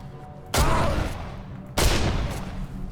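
Two loud, close gun blasts from the video game Condemned: Criminal Origins, each a sharp booming report followed by a long ringing decay, spaced about a second apart with no speech.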